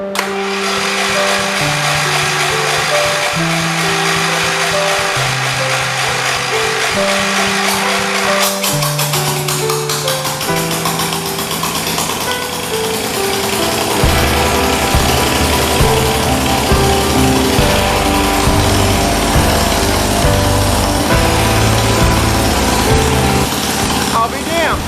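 A 1978 John Deere 208 lawn tractor engine with no muffler runs loud and close, a harsh buzzing drone that shifts pitch in steps as it revs up and down, then settles into a rougher, deeper roar.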